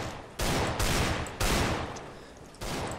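Gunfire in Counter-Strike: Global Offensive during a casual match, likely Desert Eagle shots: three loud, close bursts with abrupt onsets, each ringing out for about a second before the next.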